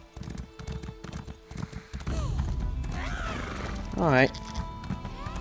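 Rapid clip-clop of horse hooves galloping in Elder Scrolls Online, a steady rhythmic patter that gives way to a louder rumbling stretch and a sharp whinny-like cry, with someone briefly speaking over it.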